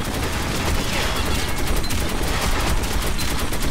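Enemies shooting in the Metro 2033 Redux video game: continuous dense automatic gunfire, a loud crackling barrage of overlapping shots that keeps up at a steady intensity without pause.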